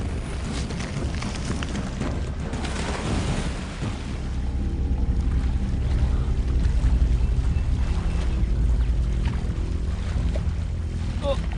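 A river rushes through the Borneo jungle with a loud, continuous roar of water that swells louder midway, and a voice can be heard at times over the flow.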